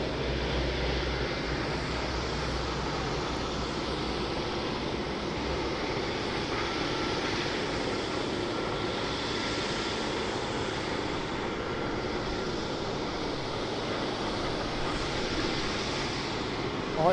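A Dreamliner at Birmingham Airport sends out a steady, broadband engine roar that holds at an even, fairly loud level for the whole stretch, with no pauses and no voices.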